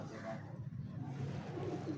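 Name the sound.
pigeon cooing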